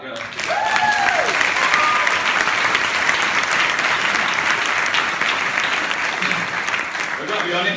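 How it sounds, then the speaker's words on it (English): An audience applauds loudly and continuously for several seconds, with dense clapping close and full, and a few brief cheers and whistles rising over it near the start. "Round of applause for that girl."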